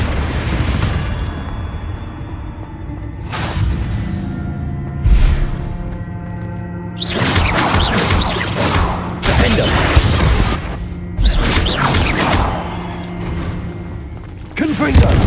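Confringo blasting spells explode in the Hogwarts Legacy video game, a string of loud, booming bursts with crackling debris, spaced a second or two apart over a rumbling battle bed.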